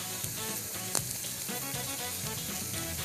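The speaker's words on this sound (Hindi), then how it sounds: "इसके ऊपर अब मैं थोड़ा सा ऑयल डालूंगा ताकि गार्लिक का जो इन्फ्यूज फ्लेवर है ऑयल का वो इस पे आता रहे" Oil is poured over garlic for donut burgers and sizzles and fries in a soft, steady hiss with faint crackles, continuous and fairly quiet throughout.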